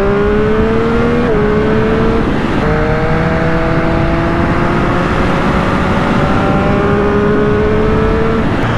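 A Triumph Street Triple 765 RS motorcycle engine pulls hard while riding, climbing through revs with a couple of quick gear shifts, loud and close under rushing wind.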